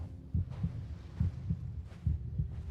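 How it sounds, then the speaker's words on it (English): Heartbeat in Genshin Impact, a low double thump repeating at a quickening pace, alone under a faint hum. "Oh, I don't like the heartbeat. It's getting faster!"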